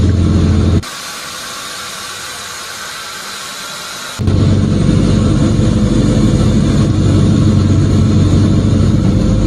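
A Toyota Corolla with a swapped transmission, in reverse gear as the clutch is let out, gives a loud, steady broadband roar and hiss that drops for a few seconds and then returns at full strength.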